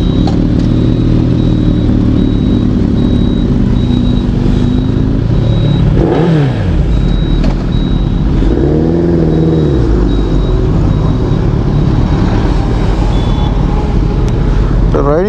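A Suzuki Hayabusa superbike is ridden toward the hills, its engine a loud, close, continuous drone under heavy wind noise, with rising and falling revs as it shifts and accelerates.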